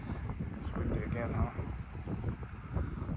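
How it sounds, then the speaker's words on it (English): Wind gusts buffet the microphone with a steady low rumble and flutter while a person talks over it. "It's windy again,"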